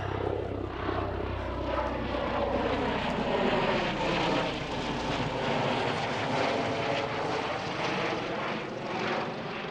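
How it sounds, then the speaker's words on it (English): A helicopter drones loudly overhead on a fell in England's Lake District, a steady rotor-like roar that swells and shifts in pitch as it passes, with no voices. "Here's our first sighting of a helicopter going right above us."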